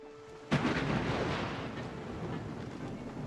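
Thunderstorm in the video game Wartales: a sudden loud thunder crack rolls into a sustained heavy rumble of rain and storm noise.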